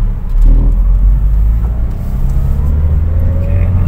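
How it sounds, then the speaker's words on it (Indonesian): A 2005 Hyundai Getz manual hatchback's engine rumbles steadily from inside the cabin while driving, a low continuous drone with road noise. "Langsung kita test drive jalan aja yuk."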